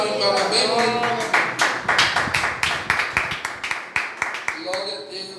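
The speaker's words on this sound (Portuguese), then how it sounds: "Salve de palmas bem bonito." A church congregation claps during a worship service, a run of distinct sharp claps in a steady rhythm. Speech comes before and after the clapping.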